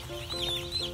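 Newly hatched broiler chicks in a large in-house hatching barn, a chorus of high, thin peeping cheeps close by over a low room hum.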